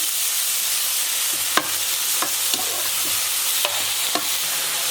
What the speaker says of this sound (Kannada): ಹಸಿಮೆಣಸಿನ್ಕಾಯಿ, ಸ್ವಲ್ಪ ಬೆಳ್ಳುಳ್ಳಿ, ಸೊಪ್ಪನ್ನ ಸಣ್ಣ ಸಣ್ಣ ಹೆಚ್ಚಿರೋದನ್ನ ಆ್ಯಡ್ ಮಾಡ್ಕೊಳ್ತಾ ಇದ್ದೀನಿ